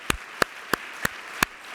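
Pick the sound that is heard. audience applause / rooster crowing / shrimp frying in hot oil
audience applause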